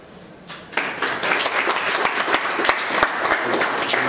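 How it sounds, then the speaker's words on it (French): Audience applause breaks out at a results ceremony for an excellence scholarship, a dense crowd clapping that starts after a brief quiet moment and holds steady and fairly close. "On applaudit."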